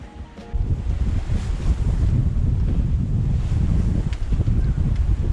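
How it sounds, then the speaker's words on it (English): Strong wind rushes over a sailboat at sea, roaring and buffeting the microphone, while waves wash against the hull. The sound is loud and steady after a brief quieter start, and nobody talks. "Wind increasing."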